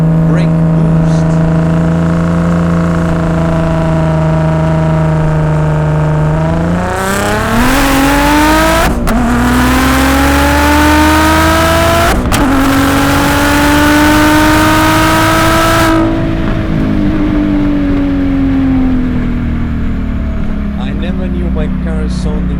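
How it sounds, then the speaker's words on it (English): An Audi S4 B5 with a V6 biturbo engine, miked at the exhaust, idles with a deep drone, then revs loudly and holds high, rising pitch with sharp shift breaks before settling back down. "Today I'm going to show you the sweet engine noises of my V6 Biturbo engine."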